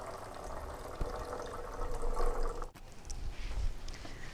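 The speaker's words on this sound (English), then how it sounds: "we're going to pour this into a 2-litre drinks bottle" Hydrogen peroxide pours into a 2-litre plastic drinks bottle, a steady gurgling liquid stream filling the bottle at close range with a brief knock partway through.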